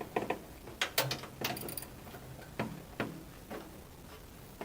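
A socket wrench on a flex-shaft extension clicks and ratchets in short irregular bursts while turning a bolt on a mini excavator's rear cover, close and fairly faint.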